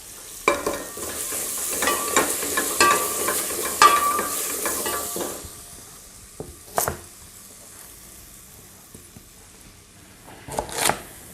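Vegetables sizzle and fry in a pan while something stirs them. The hiss fades out partway through, leaving a few scattered clinks and scrapes.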